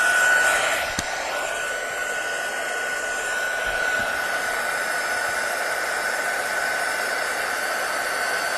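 A heat tool warms up for crafting, blowing with a steady close whooshing roar and a thin high whine. A small knock sounds early on, and no one talks.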